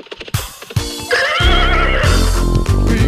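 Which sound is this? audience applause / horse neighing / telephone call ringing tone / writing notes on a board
horse neighing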